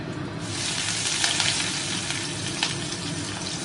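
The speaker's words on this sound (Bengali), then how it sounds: "তেলটা গরম হয়ে গেছে, এবার দিয়ে দেবো পেঁয়াজ কুচানো" Chopped onion frying in hot oil, with a steady, loud, close sizzle that holds throughout and a few faint stirring ticks.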